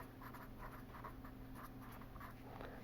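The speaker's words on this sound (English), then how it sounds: "I will just write it here." Chalk or pen writing on a board during a technical lecture on mineral inventory estimation, a steady faint scratching with short stroke bursts over a constant room hum, no talking.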